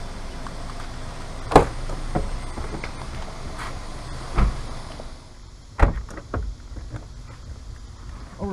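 Someone climbs into the passenger side of a Mercedes-Benz 190 with a 2.6 M103 engine, producing a few sharp thumps and clunks of the door and seat against a quiet interior, fairly close.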